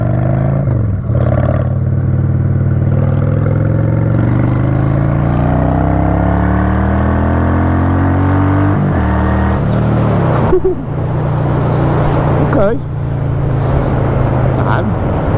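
A motorcycle rides along, engine pitch rising under acceleration, then a brief dip and renewed pull as it shifts into second gear; loud wind-buffeted engine drone with a voice talking over it.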